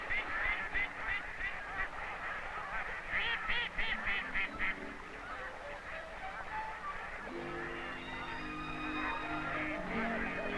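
Young mallards and blue-winged teal held in pens give repeated rhythmic quacks and nasal honking calls that overlap, with a steadier chorus of calls continuing in the background.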